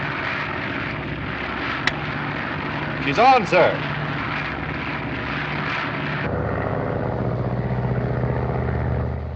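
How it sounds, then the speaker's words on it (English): A radio-controlled airplane's engine drones steadily and loudly throughout, with a man's short spoken reply heard over it partway through. "The plane is now under radio control from the board here."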